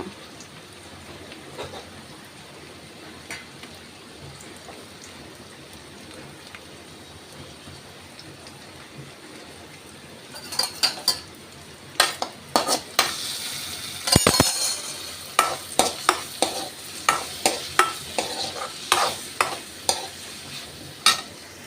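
Tomatoes going into a pan of chickpea curry, then stirred: a steady soft sizzle for the first half, then a run of sharp scraping and clattering stir strokes over continued frying, close and fairly loud, with no talk.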